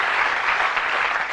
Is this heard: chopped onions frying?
no